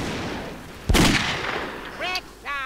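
A single loud gunshot in the blocky shooter game Brick Force bursts out near the middle, with a voice heard after it.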